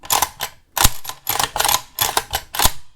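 The bolt of an imported Polish Beryl AK74-pattern rifle in 5.56 is worked repeatedly, giving a series of crisp, close metallic clacks and slides in quick rhythmic pairs, loud and alone with no talk.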